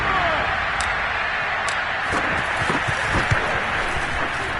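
A stadium crowd roars in a steady, dense wash of cheering after a big touchdown play in Madden 22 football, loud and continuous throughout.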